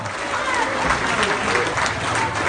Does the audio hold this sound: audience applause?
yes